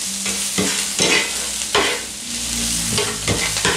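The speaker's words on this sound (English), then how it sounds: "we'll be done caramelizing the onions" Onions caramelizing in a pan for a diner-style patty melt, a loud sizzle broken by several sharp scraping stirs and clanks of a utensil against the pan, with no voices.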